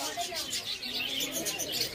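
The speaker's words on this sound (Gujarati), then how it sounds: "અરે લોકો ચકલીઓ મૂકી અલગ કલર વાળી." Small colourful birds kept by the lakeside at Kankaria Lake in Ahmedabad chirp and coo in a busy, continuous chatter, close by, with people's voices mixed in.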